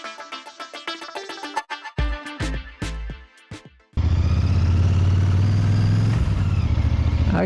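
A Royal Enfield Bear motorcycle on an easy after-work ride: plucked musical notes come first, then a loud steady engine drone mixed with rushing wind fills the rest.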